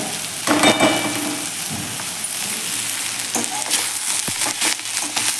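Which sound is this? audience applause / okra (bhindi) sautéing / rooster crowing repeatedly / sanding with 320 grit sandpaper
okra (bhindi) sautéing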